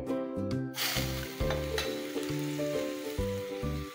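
Finely chopped onion fries in a pan with a bright, steady sizzle, while a low hum of varying pitch runs beneath it throughout.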